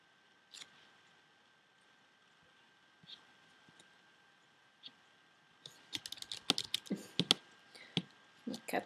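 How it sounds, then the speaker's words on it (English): A cat walks across a computer keyboard, producing scattered soft key taps at first that build into a dense, irregular run of clicks and clacks, fairly faint, with no talking. "Cats on the keyboard."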